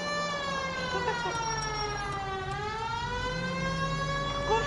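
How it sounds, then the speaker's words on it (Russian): A police siren from the video game L.A. Noire wails continuously, its rising and falling harmonic tone loud and steady throughout, with a voice talking faintly beneath it. "Не слышал сирену, братан?"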